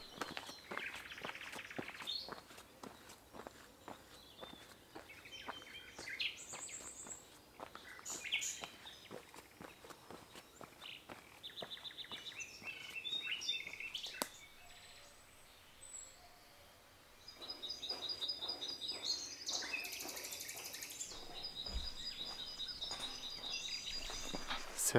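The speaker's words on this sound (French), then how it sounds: "C'est assez dingue le nombre d'oiseaux qu'on entend ce matin." Many birds sing outdoors in the morning during a landscape photography outing. Their chirps and calls are faint and scattered, with footsteps and quiet background noise, and the bird calls grow busier toward the end.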